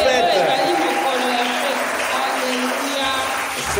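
A church congregation at a Pentecost service applauds and cheers, producing dense, loud, sustained clapping mixed with raised voices throughout.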